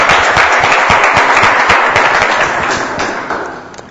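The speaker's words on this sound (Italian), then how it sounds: "Facciamo un applauso," An audience claps in a steady burst of applause at an Italian live show, loud and close, gradually thinning out over a few seconds.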